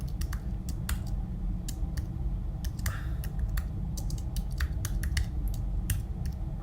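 Keys clatter on a computer keyboard while a file name is typed into a Python editor, with quick uneven bursts of close clicks over a steady low hum.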